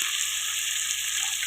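Steady, loud sizzling and frying from a pan of tomatoes and masala as prawns go in for prawn biryani, a continuous bright hiss with no talk.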